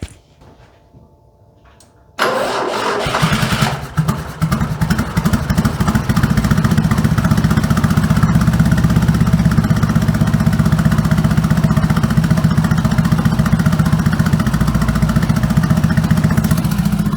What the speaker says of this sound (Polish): zapalił bardzo przyjemnie bez problemu